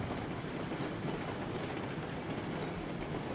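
A steam locomotive running on rails in the RailRoads Online video game, producing a dense, continuous rumble and clatter that stays loud and steady throughout, with no speech.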